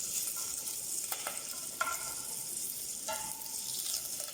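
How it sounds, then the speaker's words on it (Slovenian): Bacon slices fry one by one in a pan for risotto, giving a soft, steady hiss with a few faint scraping clicks as they are stirred or turned. "Poskusimo, da takole, da vsako rezino popečemo posebej."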